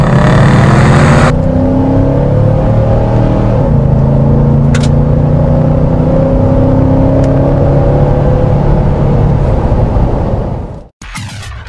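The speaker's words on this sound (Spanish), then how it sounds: "prueba de sonido del motor y una doblada aquí saliendo de la esquina" A Nissan Titan pickup's engine runs loud and steady up close, a low rumbling drone with slight rises as it rounds a street corner, cutting off abruptly near the end.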